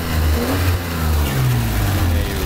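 A 1990 Nissan 300ZX V6 with a 5-speed transmission runs close by under the open hood, its engine droning loudly and steadily while being revved, with a cooling fan rubbing against something.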